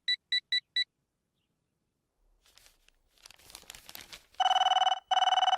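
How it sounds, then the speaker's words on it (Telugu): A telephone in an office comedy scene gives four quick electronic chirps, then a pause and some rustling. A loud, sustained ringing tone follows in two long bursts. "ఈ ఫోన్లో చంపేస్తున్నా"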